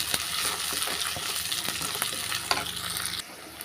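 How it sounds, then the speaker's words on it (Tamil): Onions, garlic and curry leaves sautéing in a pan while being stirred, a dense crackling sizzle broken by repeated scraping stir strokes, close and continuous until it drops abruptly near the end. "வெங்காயம் பூண்டு எல்லாமே நல்லா வதங்கிருச்சு"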